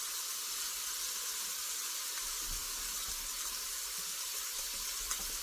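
Beef for lo mein searing in a pan, heard as a faint, steady hiss of sizzle that stays even throughout, with no talking.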